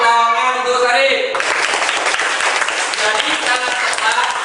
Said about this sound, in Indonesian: tepuk tangan untuk Sarip.